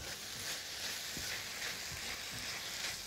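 Meat sizzles and fries in a pan, a soft, steady crackle with a few small stirring knocks, faint and without talk.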